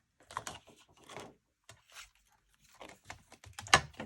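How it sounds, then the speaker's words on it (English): A craft blade cuts upward through planner paper, giving short dry scratching and crinkling bursts with pauses between them and a sharper rip near the end, close by. "I'm gonna insert this blade and cut upwards"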